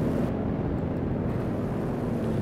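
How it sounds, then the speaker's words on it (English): American aircraft engines roaring overhead in the WWII strategy game Company of Heroes 2, a dense, steady rumbling drone that fills the background without pause, no voices. "The roaring of American aircraft engines above."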